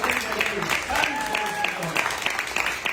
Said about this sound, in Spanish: Quiero aplaudir la palabra de vida.